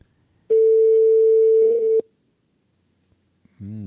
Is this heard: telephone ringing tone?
yes